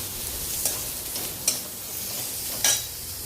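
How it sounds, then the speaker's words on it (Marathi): Bitter gourd pieces stir-frying with onion and garlic in a pan, a steady sizzle broken by three sharp scraping stirs of a spatula, close and alone. "कांदा लसणामध्ये कारलं चांगलं परतवून घ्यायचंय"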